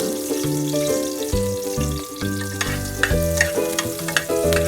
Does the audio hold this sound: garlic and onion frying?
yes